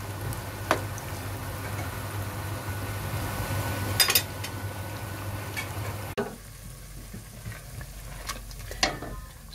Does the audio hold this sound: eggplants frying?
yes